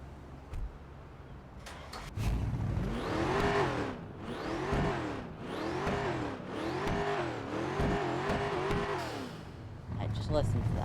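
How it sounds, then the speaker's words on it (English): A Ford Mustang in GTA 5 revs its engine loudly through several rising and falling sweeps, close and steady, with short bursts of background noise before and after. "I'll give her a rev as well."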